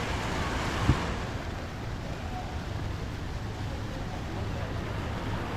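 Steady rushing of fountain water spilling and splashing down steps at night in Bonifacio Global City, Manila, broadband and continuous throughout, with no voices over it.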